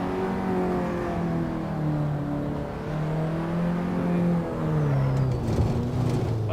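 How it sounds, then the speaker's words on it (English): Car engine pulling hard under acceleration with turbo spooling, steady harmonic drone rising and shifting in pitch, close and continuous with a faint whistle toward the end. "Oh, listen to that turbo."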